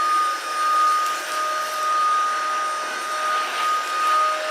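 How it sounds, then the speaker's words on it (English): Tineco A11 Hero cordless vacuum running on a rug, a steady high-pitched motor whine with a soft airy rush that swells slightly as it sweeps back and forth, close and alone. "Now, we're vacuuming my rug that hasn't been vacuumed in a few days."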